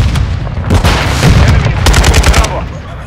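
Loud, close bursts of rapid gunfire and a grenade blast in a Call of Duty Modern Warfare 2 Domination match, shots crackling in quick volleys over a heavy low rumble.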